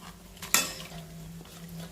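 Ground green masala is sautéed in a pan, with one sharp metal spoon clank against the pan and then soft stirring scrapes over a faint, low sizzle, close by and quiet.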